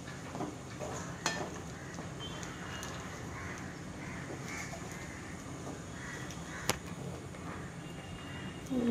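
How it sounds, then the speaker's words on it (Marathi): Pineapple sheera is stirred in a pan to keep it free of lumps, giving a soft, continuous scraping with a couple of sharper utensil knocks, while crows caw faintly in the background. "आणि हे व्यवस्थित आपण हे हलवून घेऊया की जेणेकरून त्याच्यात आपल्या गुठळ्या होणार नाहीत"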